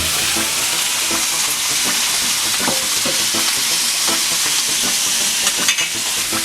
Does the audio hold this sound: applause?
no